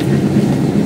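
A train crossing the River Kwai bridge at Kanchanaburi, Thailand, heard up close as a loud, continuous rolling rumble of wheels on the rails.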